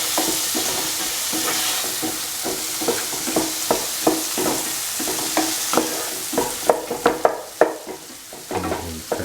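Tomatoes stir-fried with a dal fry mix, a steady sizzle under repeated scraping strokes of a spoon in the pan, growing sharper and more clattery toward the end.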